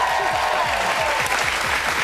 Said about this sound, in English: Thank you for clapping throughout that pod.